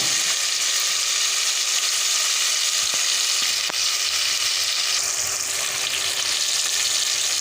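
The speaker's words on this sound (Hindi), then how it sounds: "अब ये चने और आलू भून लिए अच्छे तरीके से" Chickpeas and potatoes fry with masala in a pan, giving a loud, continuous, even sizzle throughout with only faint stirring taps.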